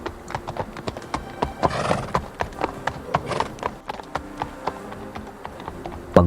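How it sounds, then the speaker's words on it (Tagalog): A horse's hooves clip-clop on a road in a slow, even rhythm of sharp knocks, close and distinct, with a brief rustle and snort midway before the steps come to a stop. "pagparada ng kabayo sa kalsada"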